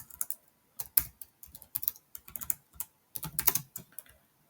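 Code typed on a computer keyboard in bursts of quick, close key clicks separated by short pauses, with no voices.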